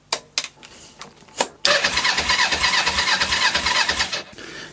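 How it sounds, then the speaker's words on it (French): A 1996 Kawasaki ER5 motorcycle engine, long unused, cranks with a few short bursts, then catches and runs loud and steady with a chugging idle before cutting off near the end. "Donc je vais démarrer la moto"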